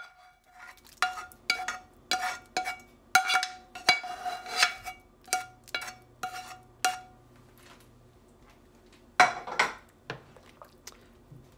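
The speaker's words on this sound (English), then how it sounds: "We're going to add in our mirepoix to our soup and scrape all that goodness in." A utensil scrapes and clanks against a pot as mirepoix is pushed into pea soup, with a dozen or so sharp metallic knocks and a stretch of soft scraping, fairly close and without talk.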